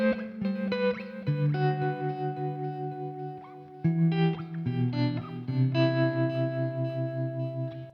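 Enya Nova Go Sonic smart electric guitar played through its built-in effects straight into a computer, a loud strummed and picked passage with sustained chords ringing out, a processed shimmering tone and an even rhythm.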